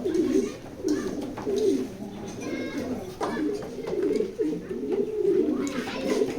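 A male pigeon at a pigeon loft cooing in repeated low, throaty phrases, several bursts in a loose rhythm, close by, with someone talking over and between the calls.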